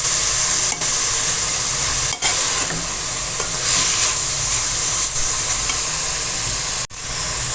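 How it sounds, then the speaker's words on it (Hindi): Vegetables roast and sizzle steadily in a hot pan while being stirred, a loud continuous frying hiss with a few brief scraping dips, close up and with no talking. "ये देखें वेजिटेबल हमारी रोस्ट हो रही है"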